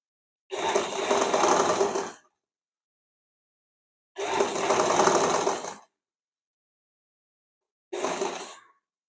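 Sewing machine stitching along a blouse neckline, running in three separate bursts: two steady whirring runs of about a second and a half, then a shorter one, each with clean silence between.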